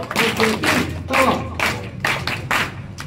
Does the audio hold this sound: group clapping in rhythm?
yes